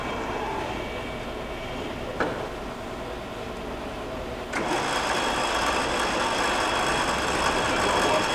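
A Proto-Trak two-axis CNC vertical mill with an R8 spindle runs with a steady mechanical whine and hum, a sharp click midway, after which the running sound grows slightly louder and continues evenly.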